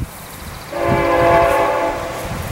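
A train horn sounds loudly in a long sustained blast over the rumble of a train passing nearby, outdoors on a blustery day in a garden setting.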